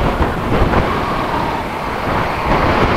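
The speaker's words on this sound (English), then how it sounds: "this bridge is fucking windy" Strong wind buffets the microphone on a bridge in Sikkim, producing a loud, continuous roaring rumble with no pauses, heard alone without talk.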